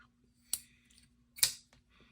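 A Tuya Shocker EDC knife flicks open twice, each deployment a sharp close metallic snap about a second apart, crisp against near silence.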